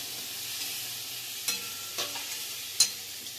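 Fried cauliflower goes into a pan with oil, chickpeas and peanuts, a steady soft sizzle broken by a few sharp stirring clacks and scrapes close by.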